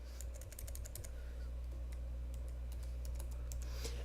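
Quick clicking keystrokes on a computer keyboard, typed in uneven bursts at close range against a low steady hum, with no talking.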